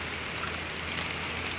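Freezing rain falls outdoors during a cold winter storm in New York City, a steady wash of fine drops hitting surfaces, with one small tap standing out briefly.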